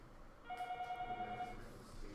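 A phone ringing in a classroom, a steady electronic warble for about one second, moderately faint, with no talk over it.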